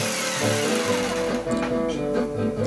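A cheap jigsaw cuts through chipboard for a homemade guitar build: a loud, close, steady buzzing motor whine with a rattling blade chatter that runs continuously throughout, with no talking.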